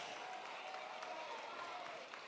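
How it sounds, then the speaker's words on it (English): Steady, distant applause from a large crowd fills an arena at a FIRST robotics district competition, a continuous wash of clapping with faint voices and tones underneath. "Let's give a round of applause to the Red Alliance"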